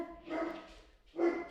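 A dog barks twice indoors, each bark a short muffled woof and the second one a little louder, with quiet room noise between them.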